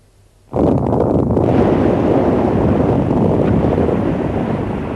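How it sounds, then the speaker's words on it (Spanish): A huge sea wave crashes in suddenly as a radio drama effect, a loud, broad roaring wash that bursts in and holds steady, slowly easing toward the end. "El mar se levantó en una ola enorme"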